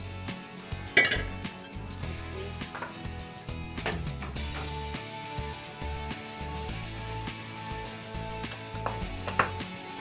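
Pots and pans clank and clatter repeatedly while chicken pasta sauce is moved from a small cooking pot into a bigger one, with metallic knocks and scrapes continuing close up throughout.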